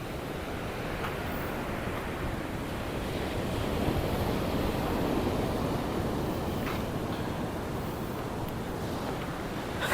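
Sea waves at Sonpur beach near Berhampur, Odisha, roll in as a continuous broad roar of surf mixed with wind buffeting the microphone, steady and fairly loud with no voices.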